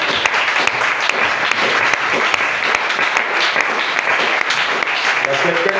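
A church congregation applauding during a service, loud sustained clapping from many hands filling the room evenly from start to end, with a voice speaking faintly beneath it.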